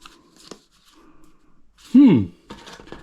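Cards and packaging from an Amazon mystery box rustle and crinkle in short bursts while a person talks nearby.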